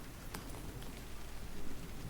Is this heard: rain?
yes